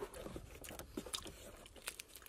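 Crunchy fruit candy is chewed close to the microphone at a campground, with a quick run of soft, irregular crunches and bites that stay faint and come alone, without talk.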